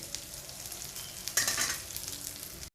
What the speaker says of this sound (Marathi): छान असं काबोळी पण फ्राय झालेली आहे